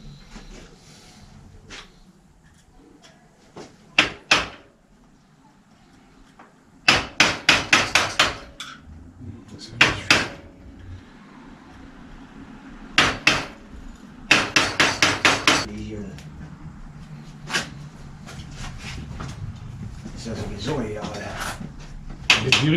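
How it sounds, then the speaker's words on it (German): Sharp metallic hammer blows knocking out bicycle bottom bracket bearing cups, in several quick bursts of four to six strikes, with pauses between them and low background rumble. "hier gleich mit dem Hammer aufprügeln"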